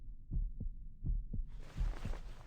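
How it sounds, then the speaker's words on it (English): Heartbeat sound effect with deep, muffled double thumps, lub-dub pairs in a steady rhythm, close and low, with a faint hiss entering partway through and no voices. "feeling her heart pounding louder and louder"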